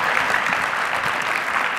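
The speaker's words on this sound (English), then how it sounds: "Big round of applause for our panelists." Steady audience applause fills the room for panelists at a live IZEAFest 2015 event, dense continuous clapping close and fairly loud with no break across the short stretch.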